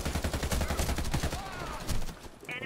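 Rapid automatic rifle fire in the Warface shooter game, a quick rattling burst of close shots that thins out toward the end, with faint game noise behind it.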